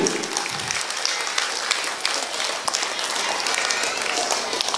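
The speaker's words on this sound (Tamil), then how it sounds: "இவருடைய தீர்ப்பு நல்லதா இருந்தா ஒரு கரகோஷம் கொடுங்க இந்த பட்டிமன்றத்துடைய அணிக்கு" An audience at a school annual day debate applauds in a dense, continuous wave of clapping from a large crowd, with some voices faintly mixed in.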